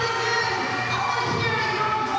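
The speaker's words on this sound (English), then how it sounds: "Everyone's getting very excited in the crowd." Spectators at the Toyota World Para Swimming Championships, a steady crowd roar with excited cheering and children's shouts echoing through an indoor pool hall, continuous and moderately loud.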